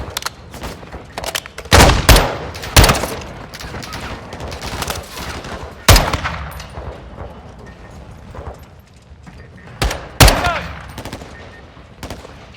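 Gunfire in Call of Duty Modern Warfare 2: scattered loud rifle shots and short bursts crack out irregularly over a noisy battlefield background, close and punchy.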